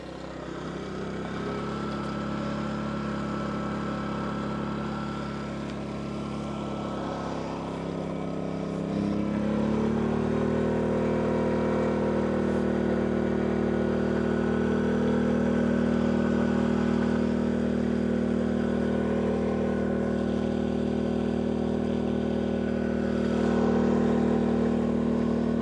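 A portable generator running after start-up, a steady mid-loud mechanical hum that steps up in level partway through and then holds an even, continuous drone.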